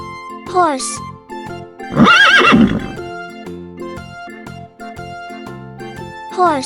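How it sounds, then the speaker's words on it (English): A domestic farm horse gives a loud, close whinny lasting about a second, rising over light background music. "Horse."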